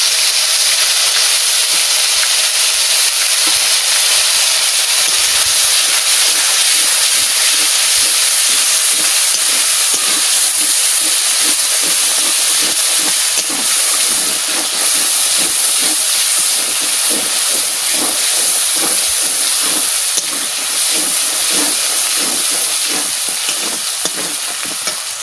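A ground paste of coriander, cumin, dried chilli, onion, garlic and ginger fries in hot oil with a loud, steady sizzle and hiss, broken by frequent stirring scrapes, continuous and close with no talking.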